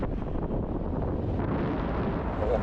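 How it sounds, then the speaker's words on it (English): Strong, cold wind buffets the microphone on a sandy beach at Gaeta in Italy in a steady, loud roar that blows fine sand around, with no voices over it. "It's also very windy"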